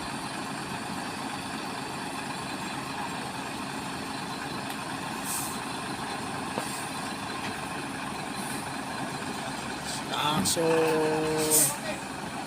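A Volvo trailer truck with a 45-ton load labors up a slope, its engine droning steadily at a distance under faint talk, with a brief louder surge and hiss near the end.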